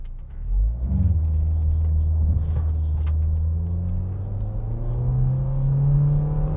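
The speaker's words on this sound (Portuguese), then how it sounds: "para fazer uma saída na subida e ver nível de ruído e nível de vibração dentro do carro" Interior of a car pulling away uphill from a standstill in Drive, with a steady loud low engine and road rumble and a rising whine as the torque converter slips and the car accelerates; no talking.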